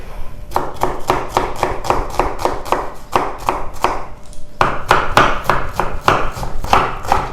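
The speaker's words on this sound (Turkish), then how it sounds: "şimdi doğrama işlemlerine geçelim." A knife chops onions rapidly on a board in quick, even strokes, with a brief pause midway before the brisk chopping resumes.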